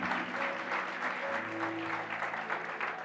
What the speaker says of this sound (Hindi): प्रभु के लिए ताली बजाओ